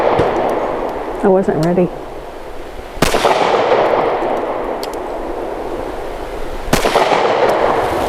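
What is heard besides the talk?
gunshots from a Stoeger STR 9C pistol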